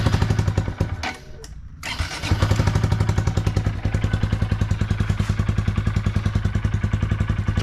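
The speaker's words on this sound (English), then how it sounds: "Let's give it a little cold start with the baffle in." A 2025 Honda Grom motorcycle with an iStunt exhaust, baffle installed, cold-starts after a brief cranking gap, then settles into a steady, close, rapid idle thrum.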